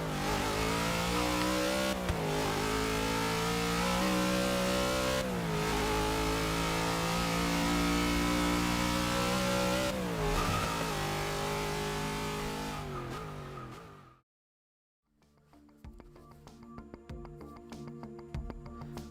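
Ford Falcon GT Mad Max Interceptor in Forza 6 revs hard and continuously for about thirteen seconds with repeated throttle blips and gear-like surges, loud and close, then cuts to near silence before faint background music returns.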